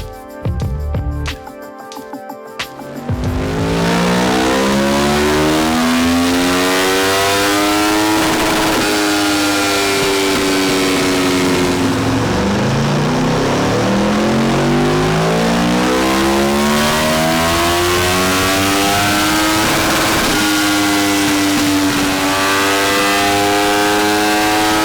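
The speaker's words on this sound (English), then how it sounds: "So that's the base runs done on the dyno on this Aprilia Tuono" An Aprilia Tuono V4 motorcycle on a dyno climbs through its gears at full throttle, a loud close engine howl rising in repeated sweeps with brief drops between shifts, after a short quiet start.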